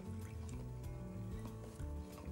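Lemongrass syrup is poured into milk and stirred while making green fig ice cream, a soft close trickle and liquid swirl with faint clinks, very quiet throughout.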